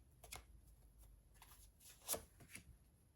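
Quiet riffling and flicking of a deck of cards being shuffled, several soft bursts with one sharper snap near the middle.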